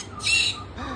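A pet conure parrot lets out a single loud, harsh squawk close by, followed by a shorter, fainter rasping call.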